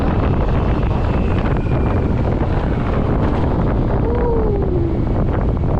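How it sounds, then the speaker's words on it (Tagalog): Strong wind buffets the microphone as an e-bike climbs uphill at speed, a loud continuous roar with gusting rumble and no talk. "Oh, lakas ng hangin."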